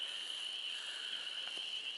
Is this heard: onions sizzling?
no